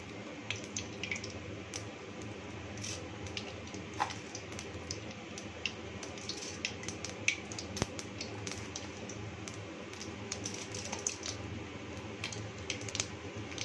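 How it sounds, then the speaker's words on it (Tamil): Mustard seeds and cumin spluttering in hot oil for a shark fish scramble, a steady dense crackle of tiny pops and sizzles running throughout, close and fairly quiet with no talk. "கடுகு, சீரகம் சேர்த்து பொரிஞ்சிட்ருக்க இந்த சமயத்தில் கொஞ்சம் உளுத்தம்பருப்பு போட்டுக்கலாம்."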